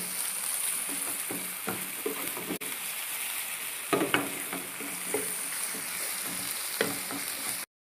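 Ginger garlic paste fries in a pan for a green chicken shawarma, giving a steady close sizzle with scattered stirring clicks and scrapes throughout, with no talk.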